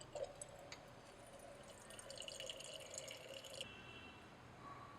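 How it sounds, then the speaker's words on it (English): A dichloromethane bottom layer drains from a glass separatory funnel in a lab as a faint, steady trickle of liquid that runs for a few seconds and then stops, leaving quiet room tone. "we allow it to separate and then drain off the DCM bottom layer"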